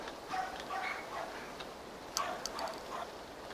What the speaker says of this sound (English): I can hear a dog.